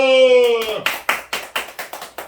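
A church congregation at a Sunday service claps in a quick run of sharp, close hand claps after a brief sung or spoken tone at the start.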